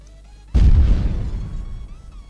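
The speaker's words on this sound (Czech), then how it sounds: "Máte explozi." A single explosion sound effect hits suddenly as a loud, deep boom, then trails off into a rumbling decay over about two seconds, with no voices.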